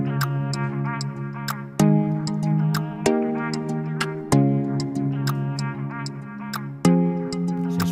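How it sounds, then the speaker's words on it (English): Afroswing percussion of crisp finger snaps and rim shots ticks in a syncopated pattern over sustained harmonic chords, sharp transients standing out clearly above the pad. "So it's pretty much just a finger snap and a rim shot."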